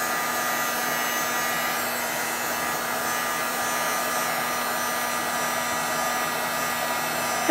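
A heat gun blows steadily while melting embossing powder, a constant close whooshing hum with a faint tonal whine that holds evenly throughout, then a small knock right at the end; no voices.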